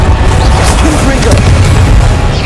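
The Confringo spell in the Hogwarts Legacy video game lets off a loud booming explosion with crackling bursts, over continuous game noise.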